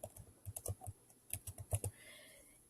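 A short burst of typing on a computer keyboard, close and quiet, with a quick series of key clicks in two clusters before it goes still.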